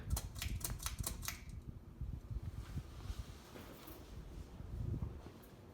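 A 42-inch SMC F42 ceiling fan runs on high with a slight wobble, giving a steady airy whoosh and low rumble after a quick run of sharp clicks at the start.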